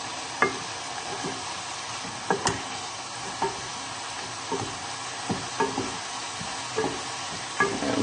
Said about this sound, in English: So hopefully your tomatoes are just boiling away nicely.